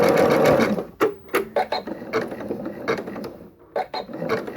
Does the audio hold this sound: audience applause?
no